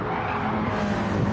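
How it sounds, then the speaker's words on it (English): Race car tyres squealing on a road circuit approaching a hairpin, a loud sustained screech over engine roar, close and continuous. "There's lots of tyres squealing up ahead."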